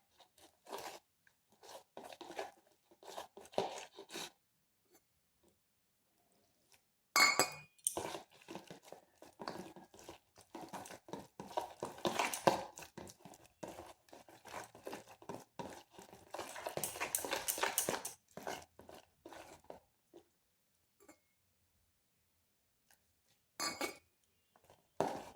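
Potato batter being mixed with water in a bowl, giving irregular bursts of clinking, scraping and wet crunching against the bowl, with pauses between spells of stirring and no talking.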